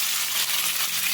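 Whole spices and a dried red chilli fry in hot oil, giving a steady, close hiss and sizzle with no talking over it.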